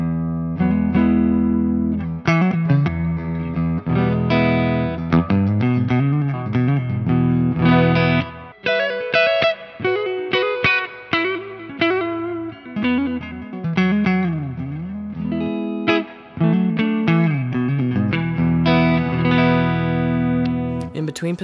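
A PRS Swamp Ash Special electric guitar plays on its neck pickup in full humbucker mode through a Torpedo Captor X with speaker cabinet simulation, delivering a distorted riff of sustained chords and quick single notes with brief pauses, no voices.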